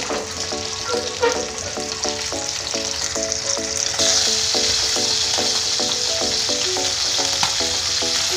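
Dried tilapia (dinaing na tilapia) sizzles steadily in a pan, a close, bright frying hiss with a run of repeated clinking taps over it.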